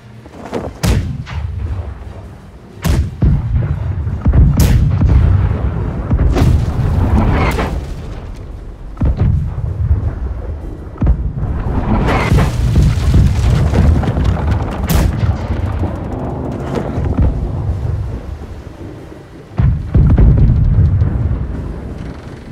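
Ship cannons fire in a naval battle in the Blackwake video game: heavy booming shots land one after another at irregular intervals, each followed by rumbling decay, loud and close with no talk.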